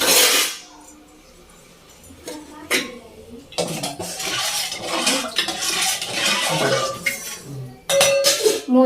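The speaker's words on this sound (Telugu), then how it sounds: "మూత పెట్టుకోవాలి," A metal lid is set onto a cooking pot of wheat rava upma, bringing clattering metallic clinks and scrapes amid kitchen noise, with a sharper clank near the end and a voice talking faintly.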